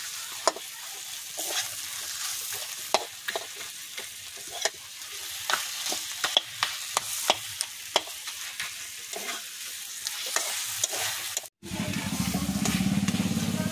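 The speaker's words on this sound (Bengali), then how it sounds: "খুন্তির সাহায্যে আমি মাথাটাকে ভেঙে নিচ্ছি" A spatula breaks up a fried fish head in a pan of sizzling masala, with repeated sharp scrapes and taps over a constant frying hiss before a sudden cut to a duller, rumbling noise.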